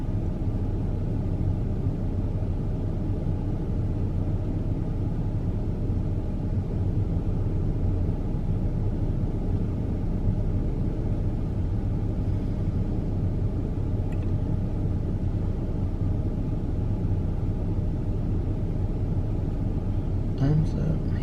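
Low, steady road rumble fills the interior of a moving car, a constant deep drone with faint hiss on top and a few light clicks near the end.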